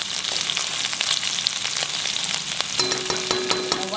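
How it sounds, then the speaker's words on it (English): Finely chopped garlic cloves frying on a high flame, a loud, steady close sizzle with crackles and occasional stirring scrapes, plus a faint tone near the end. "Here I have finely chopped 12 garlic cloves. Now notice this is on high flame."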